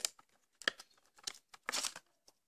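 Packaging of a light bulb, a reproduction of an incandescent or halogen lamp, being torn open with quiet crinkles and tears, then a longer rip near the end, close and alone with no talk.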